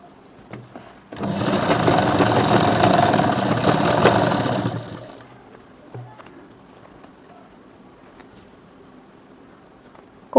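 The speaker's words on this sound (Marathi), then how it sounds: "इथं लॉक सिलाई मारून घ्यायची व्यवस्थित." A sewing machine runs a lock stitch on old bedsheet fabric for a pillow cover, a loud steady whirring burst lasting about four seconds, then stopping into quiet with faint handling noises.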